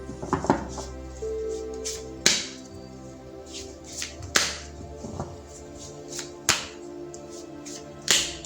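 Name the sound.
shuffling tarot cards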